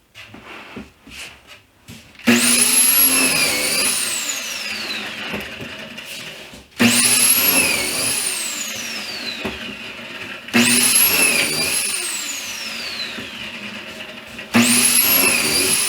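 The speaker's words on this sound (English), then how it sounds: "I'm going to pocket hole screw the plywood to the bottom from underneath." A drill drives pocket hole screws into plywood, with four loud, close bursts of whirring motor that each rise to a high pitch and then bog down as the screw seats, separated by short quiet handling pauses.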